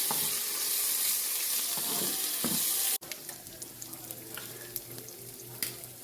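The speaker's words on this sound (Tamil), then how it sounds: "இறாலை வதங்க விடுவோம்." Turmeric-and-salt-coated prawns frying in hot oil, a dense sizzle that cuts abruptly to a quieter, crackling fry with scattered pops and spatter, no speech.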